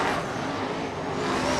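Sprint cars race on a wet clay oval at Bakersfield Speedway in 1992, heard as a dense, continuous roar of engines at an even, fairly loud level with no voices over it.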